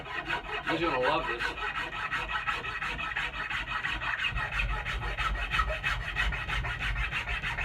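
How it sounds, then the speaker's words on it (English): A spokeshave smooths a yellow birch handle, its blade rasping across the wood in steady, repeated rubbing strokes. The close, scratchy shaving continues throughout while a voice speaks briefly. "You could spoke shave in either direction"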